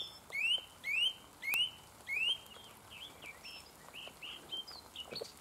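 A thrush sings outdoors on a spring walk, giving four bright rising whistled phrases, then softer repeated chirps at moderate distance over quiet background.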